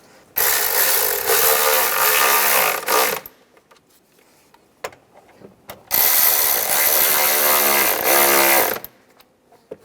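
A ratchet tightens the valve cover bolts on a 2003-2010 BMW X3 in two long bursts of rapid clicking, close and loud, separated by a quiet pause with faint handling noises.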